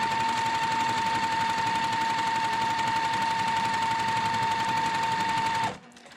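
A sewing machine runs at full speed along a quilt strip, a steady loud whirring hum with a rapid needle clatter, then stops abruptly near the end, leaving a quiet hum.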